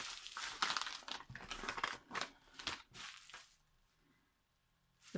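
A big paper envelope is handled close up, crinkling and rustling in several loud bursts, then falls quiet before a final crackle.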